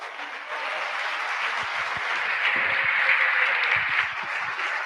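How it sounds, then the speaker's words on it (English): Audience applause for a speaker named James after a talk on agorism, a broad steady wash of many hands clapping that holds evenly for several seconds with no voices. "give a big round of applause for James"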